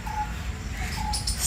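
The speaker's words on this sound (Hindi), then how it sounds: "कितनी सारी चिड़िया की आवाज़ें आ रही हैं" Birds chirp in a park, with scattered short whistled calls and a soft coo at moderate distance over a steady outdoor background.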